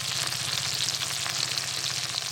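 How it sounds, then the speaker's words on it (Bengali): Shallots fry in hot oil in a pan for an Indian jackfruit chicken dish, giving a continuous bright sizzle with a low steady hum beneath and no talking. "পেঁয়াজটাই দেখুন কি সুন্দর ভাজা ভাজা হয়ে গেছে।"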